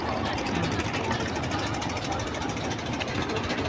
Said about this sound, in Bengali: অনেক অনেক ট্রলার চলতেছে।